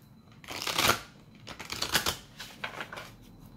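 Tarot cards being shuffled by hand: a few bursts of crisp riffling and flicking, close and fairly loud, with short pauses between them and no talking.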